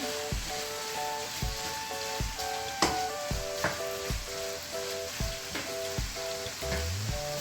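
Meat with garlic frying on a sac pan for sac kavurma, a steady close sizzle with regular clanks of a utensil stirring and scraping the metal.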